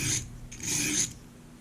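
A soft stainless paring knife is rasped under heavy pressure across a coarse sharpening stone, making two close, gritty scraping strokes, each about half a second long, followed by a quieter pause.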